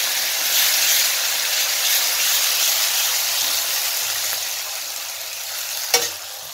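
Spice paste for shahi paneer sizzling hard in a hot pan, a loud, steady broadband hiss with a single utensil knock near the end, no talking.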